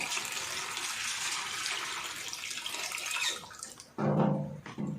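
Fresh water pours into a pot of raw rice for washing, a steady broad rush of flowing water that swells louder and fuller near the end as the pot fills.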